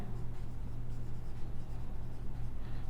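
Writing on a board during an accounting lesson, a steady scratching stroke texture continuing close and moderately loud over a low steady hum, with no speech.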